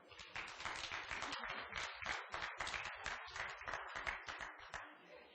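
Rapid, steady clapping from a small group at a book launch in the Charles H. Wright Museum of African American History, close and fairly even, continuing for several seconds without a break.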